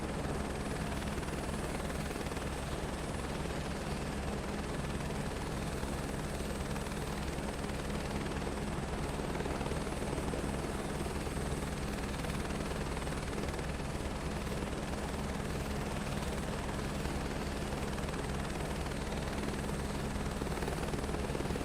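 An aircraft lands in Microsoft Flight Simulator 2024, a steady broadband engine and rotor roar holding at constant level throughout, with no talk.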